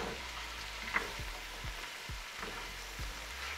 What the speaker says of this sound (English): and then saute your veggies in that butter